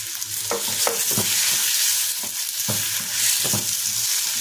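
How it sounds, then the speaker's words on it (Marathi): Tomatoes with salt cook in a pan for a dhaba-style egg curry, giving a steady sizzle with several short stirring scrapes spaced through the clip, close and moderately loud, with no talk. "बसायला शिजू देऊयात आता टमाटर"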